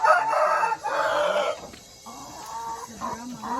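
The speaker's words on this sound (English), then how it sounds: "Brahma chicken." A Brahma chicken on a high mountain chicken farm in the Philippines crows loudly and nearby, then clucks in a series of shorter calls.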